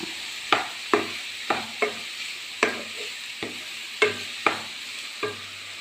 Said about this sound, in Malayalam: ഈ സവോളയ്ക്കടെ ആഡ് ചെയ്യണം. ഇളക്കി കൊടുക്കാം.